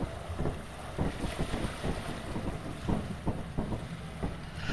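Water sloshing and splashing with soft wind-like rushing in the video game Lethal Company, steady and fairly quiet, no voices.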